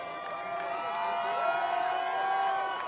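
Protest crowd in Atlanta cheering while police officers kneel, a loud, swelling mass of cheers and whoops that holds steady through the moment.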